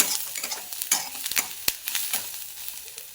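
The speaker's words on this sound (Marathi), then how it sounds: "थोडीशी हळद टाकून घ्यायची, कढीपत्ता पण टाकायचा, परत असं मिक्स करून घ्यायचं" Onions frying in a pan with turmeric and curry leaves are stirred with a spoon, giving a steady close sizzle with scraping strokes against the metal and a few sharp clinks.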